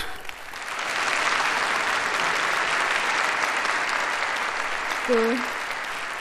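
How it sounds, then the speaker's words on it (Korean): Warm audience applause at a formal gathering honoring athletes and coaches, a steady even wash of clapping filling the hall, with a brief tonal sound near the end. "박수를 보내줍시다"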